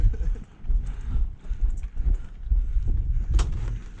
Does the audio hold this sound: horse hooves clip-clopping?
yes